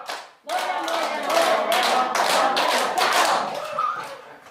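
Rhythmic hand clapping in a steady beat, loud and close, with a voice sounding over it.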